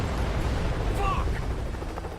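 A helicopter in the video game Modern Combat 5: Blackout rumbles as a loud, steady low-frequency drone, mixed with battle noise and the gunfire-like bursts of combat, and voices shouting over it.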